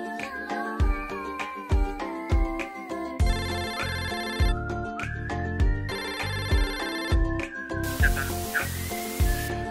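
A telephone rings repeatedly with a bright electronic ringtone in a regular, patterned rhythm, loud and close, with no speech over it.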